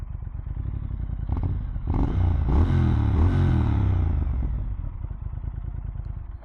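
2024 Triumph Speed Twin 1200 motorcycle engine pulling close by, a deep throbbing rumble that swells as the revs climb and then eases back down, with some light clatter.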